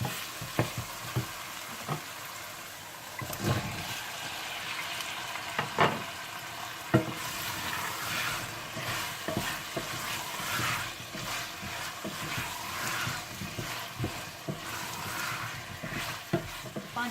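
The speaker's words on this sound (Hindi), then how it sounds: "और जब मसाला अच्छा सा भुन जाए तो आप इसमें आलू डालकर भून लें।" Potatoes fry in masala and are stirred, with continuous sizzling and repeated scrapes and clatters of a spoon against the pan, moderately loud and close.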